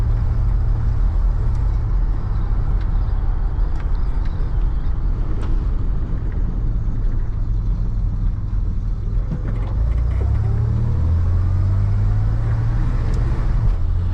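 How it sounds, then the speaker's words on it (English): A 1988 Dodge Ram B250 Safari van on the move, its engine droning low and loud alongside constant wind noise inside the cabin, a steady road rumble with a rising tone near the end and no voices. "Engine makes a lot of noise, a lot of wind noise in here."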